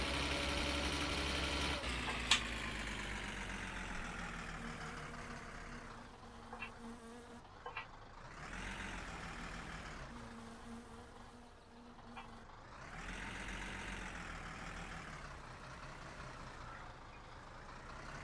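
In the video game My Summer Car, a car engine idles with a droning hum, then revs up and back down twice in long rising and falling sweeps.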